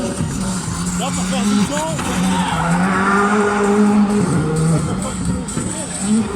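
Adrien Ferdemont's rally car on a Rally de Wallonie stage: a strained engine note climbing and dropping through gear changes, with tire scrubbing, heard at middle distance while a commentator talks over it.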